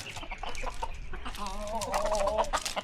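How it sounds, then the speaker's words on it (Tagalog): Chickens clucking at a house in Bali, several birds close by with a steady run of short clucks and a drawn-out warbling call rising over them. "Lain giman tunog sang manok diyo no."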